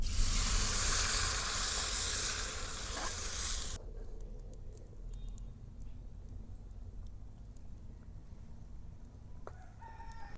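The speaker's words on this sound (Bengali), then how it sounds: "এখন আমি জলটা দিয়ে দেবো" Measured water poured into a pot of chicken pulao makes a loud, rushing hiss for about four seconds, then cuts off abruptly, leaving a quiet background with faint clicks and no talking.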